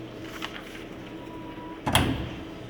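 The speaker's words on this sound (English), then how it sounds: "Sliding door to allow access to the wear pin and check for rotation." Sliding door on a Bauer brake test stand, giving access to the wear pin, opening with a brief mechanical slide and a sharp clunk near the end over a low steady machine hum.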